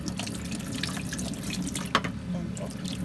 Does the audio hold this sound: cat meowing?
no